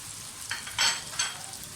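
Potatoes fry in oil with spices and green chillies, a soft crackling sizzle with a couple of louder bursts, fairly quiet and brief.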